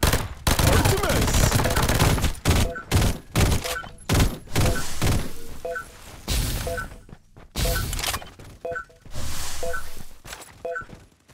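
Bursts of gunfire in the shooter game Farlight 84, rapid automatic volleys alternating with short pauses and single shots, loud and close, with a faint game voice underneath.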